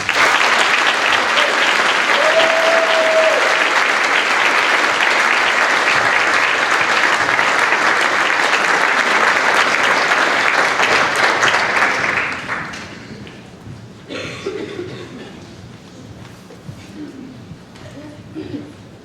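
A conference audience at an environmental law keynote breaks into loud, sustained applause for speaker Gary Paul Nabhan, a dense clapping roar lasting about twelve seconds before fading to scattered claps and room noise.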